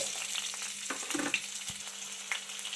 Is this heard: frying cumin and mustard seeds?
yes